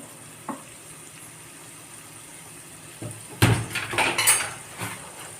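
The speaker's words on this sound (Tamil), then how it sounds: "தக்காளியும் வெங்காயமும் நல்லா சிம்மில் வச்சு நல்லா வதக்கிடுவோம் நல்லா வதங்கட்டும்" Tomatoes and onions sautéing on low heat for tawa paneer masala: a faint quiet sizzle at first, then a louder run of spatula clatter and scraping against the pan.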